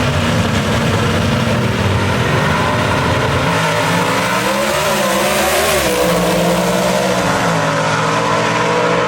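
Gasser drag race cars roar down the strip at Mooresville Dragway, a loud continuous engine blare whose pitch climbs and shifts as the cars accelerate, dominating the sound with no voices.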